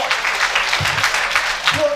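Audience applause at a Geek Series event, a steady wash of clapping that holds throughout, with voices talking over it.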